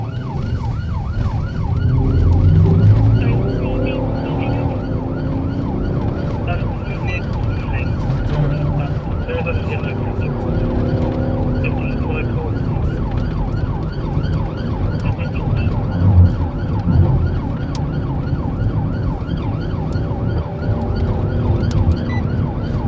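Wailing emergency vehicle sirens rise and fall continuously over road traffic noise, fairly loud and close, with several overlapping tones, as vehicles move onto a motorway hard shoulder.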